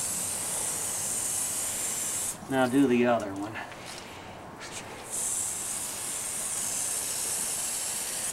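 Liquid sprayed onto a person's feet at home, a sharp hissing spray that stops as a voice speaks, then resumes as a steady hiss.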